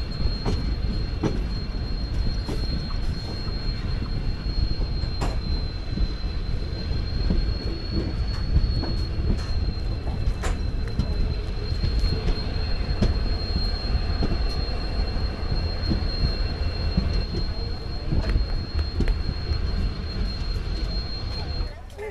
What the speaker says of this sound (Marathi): आणि ट्रेन पण आपली सुटलेली आहे